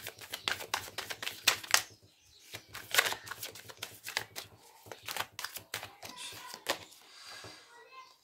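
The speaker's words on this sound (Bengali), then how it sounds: "কার্ডগুলো অ্যাকচুয়ালি এলোমেলো হয়ে যাচ্ছে" Tarot cards being shuffled by hand, a rapid series of crisp riffling flicks and snaps with brief pauses, close and fairly quiet, with faint speech behind.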